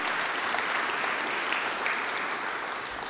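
A conference audience at an assistive technology keynote gives dense, steady applause throughout, with many hands clapping at once in a large hall.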